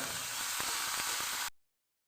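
Mung dal frying in white oil in a wok, a steady broadband sizzle with a few soft stirring knocks, fairly close, stopping abruptly after about a second and a half.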